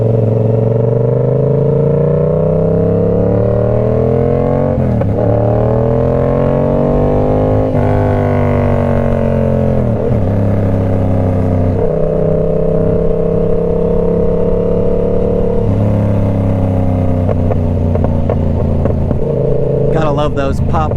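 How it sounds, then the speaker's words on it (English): Yamaha R7 or Honda Grom motorcycle revving and riding loudly up close, engine pitch rising and falling through gear changes, with crackling exhaust pops near the end, a rider talking over it. "love those pops from the exhaust."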